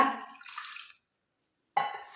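A short splash of water being poured into a bowl while making Kerala nendran banana chips, then a pause of silence before another brief pour begins.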